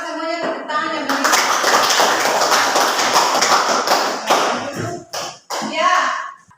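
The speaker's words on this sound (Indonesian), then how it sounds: "maka semuanya tepuk tangan yang meriah" A classroom of children claps together loudly and steadily for several seconds, the applause thinning out toward the end, with a few brief stops and scattered final claps.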